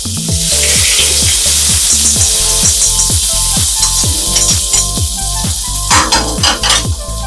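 Onion mixture tipped onto fish pieces for a yogurt fish curry, loud steady sizzling throughout with rhythmic scraping and stirring strokes and a brief clatter of utensils near the end, no voices.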